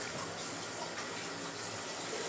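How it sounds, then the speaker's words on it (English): A knife is rinsed under a running kitchen tap, with a steady, close hiss of water splashing over the blade and into the sink. No one speaks. "so I'm going to wash off my knife"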